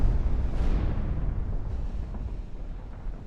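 A shell from a naval gun strikes an enemy warship in a dreadnought-era naval battle game, a single loud deep explosion that rolls off into a long rumbling decay.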